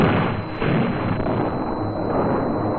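A dynamite blast in holes drilled into a canyon rock wall, heard on old film as a loud, sustained, rumbling roar with a constant hiss throughout.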